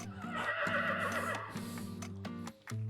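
A horse neighs in a loud, close run of quavering whinnies, with short pauses between bursts and a final snort at the end.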